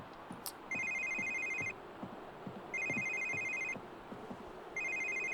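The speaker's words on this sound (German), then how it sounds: "Telefon." A telephone rings in The Sims 3 in three long electronic bursts separated by short gaps, loud over a low murmur of background game sounds.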